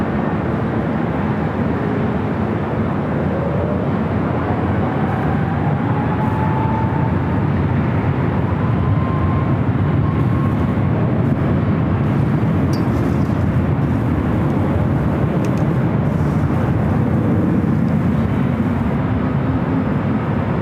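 A Boeing 777 cargo freighter arrives on runway 25 left at Los Angeles airport, a loud, sustained jet roar that holds steady throughout with a faint whine drifting above it.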